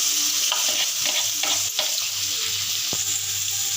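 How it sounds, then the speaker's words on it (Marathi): Chopped onion sautéing in hot oil for a soupy pasta, with a steady close sizzle and the occasional scrape of a stirring spoon, no voices. "आता त्याच्यात कांदा परततोय।"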